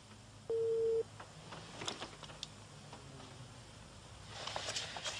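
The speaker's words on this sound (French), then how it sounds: "Parlez après le top sonore." A single short electronic beep from a 1970s answering machine, a clean steady tone lasting about half a second, followed by faint clicks and room noise.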